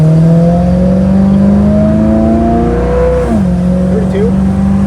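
A 1975 Chevrolet Monza with a 350 V8 accelerating hard from a stop, a loud rising engine drone that drops sharply at a gear shift before climbing again, heard steadily from inside the car.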